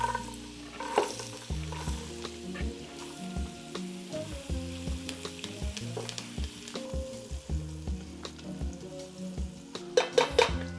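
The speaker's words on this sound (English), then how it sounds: "you wanna begin by sweating them. Add you a little bit of olive oil, and you wanna mix that olive oil with a little bit of butter" Diced vegetables sizzle steadily in olive oil mixed with butter for soup, with frequent scraping stirs and light clinks of a utensil against the pot throughout, fairly close and loud, no talk.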